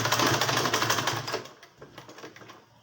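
A sewing machine stitches gathered tulle and fabric, a fast steady mechanical chatter close up that slows and stutters to a stop near the end.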